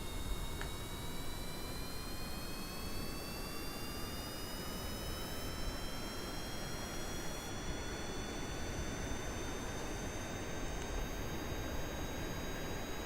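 Kerbal Space Program rocket engines throttling up at launch, a steady, loud broadband roar with rising whine tones, sustained without break throughout.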